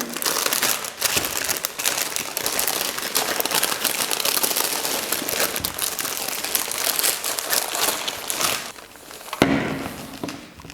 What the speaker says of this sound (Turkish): Paketimizi açalım.